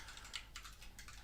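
Quiet, close typing on a computer keyboard while coding, a few soft clusters of key clicks in quick bursts with short pauses.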